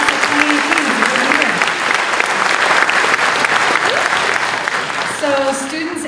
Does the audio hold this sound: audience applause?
yes